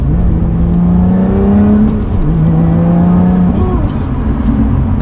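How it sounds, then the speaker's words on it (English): A 2020 Lotus Evora GT in sport exhaust mode revs loudly on rev-matched downshifts while driving, its exhaust note rising and falling in several sharp blips over steady road noise. "I'm just gonna mess with that a little bit as we rev match these downshifts here."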